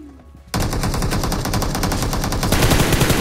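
Rapid automatic gunfire in the battle royale game BGMI erupts suddenly after a brief quiet moment, then continues as a loud, dense, sustained burst of shots up close with no talk.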